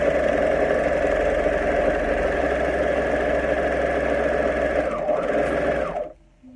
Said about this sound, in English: now I'm gonna sew it on.